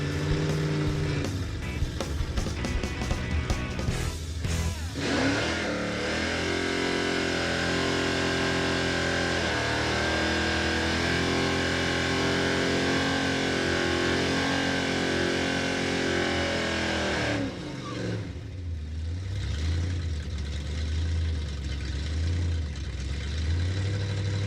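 Chevrolet Impala drag car engine revving hard at the starting line with drum brakes held, a loud, sustained high-rpm roar that holds steady for several seconds before dropping back to a lower rumble.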